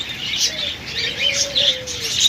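A pair of pet lovebirds or java sparrows in a cage, chirping in quick bright bursts close by, continuous through the moment.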